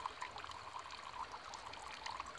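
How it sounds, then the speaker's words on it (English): Filtered water dripping from a Millbank cloth filter bag into a cup, a soft, continuous trickle with small irregular drips, close and quiet, no talking. "As you can see, it's dripping into the cup"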